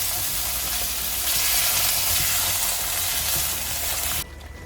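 Spinach and corn curry sizzling and frying in a pan on the stove while being stirred, a steady close hiss with faint scraping that drops away sharply near the end.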